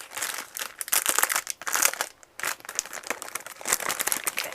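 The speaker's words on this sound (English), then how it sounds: "I just want to take these out of the envelopes" Paper envelopes crinkle and rustle as birthday cards are pulled out of them: continuous close, dense crackling with short pauses between handlings.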